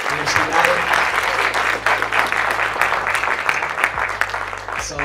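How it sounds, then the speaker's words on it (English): Audience applause for Mayor Steve Adler at an evening event, sustained dense clapping from a crowd filling the room, steady and loud throughout with a low hum underneath. "Can y'all give a big round of applause for Mayor Steve Adler?"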